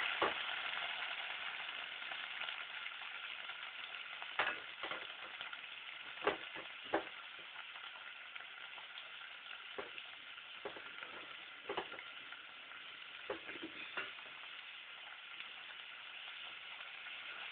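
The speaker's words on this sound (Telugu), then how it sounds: "ఆనియన్స్ బాగా ఫ్రై అవ్వాలంటే ఇందులో కాస్త ఉప్పు వేసుకుంటే త్వరగా వేగిపోతాయి." Onions, curry leaves and mint frying in a pan for an egg curry, a steady soft sizzle with scattered stirring clicks and pops throughout.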